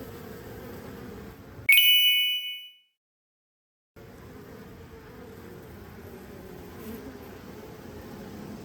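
Honey bees hum in a low, continuous buzz around their hive, broken by a sharp metallic ding and a brief stretch of silence before the droning resumes.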